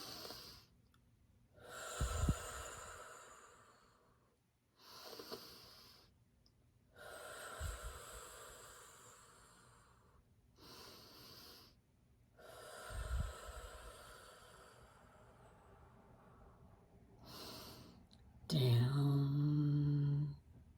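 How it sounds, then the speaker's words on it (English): Three slow, deep cleansing breaths drawn in and let out through the nose and mouth, each a long airy rush separated by pauses, close and soft, followed by a brief vocal sound at the end. "So we'll take the 3 cleansing breaths."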